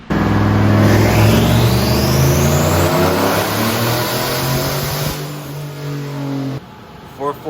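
A turbocharged LS engine running on E85 revs hard during a dyno pull. A loud, sustained wail climbs steadily in pitch, then drops off and idles down, and voices come in near the end.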